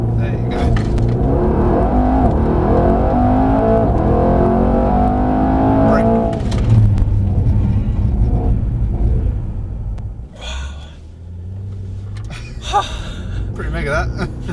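Mercedes-AMG E63 at full throttle on a race track, a loud, sustained engine roar climbing through the revs for about six seconds, then easing into a lower rumble with brief exclamations and talk from inside the car.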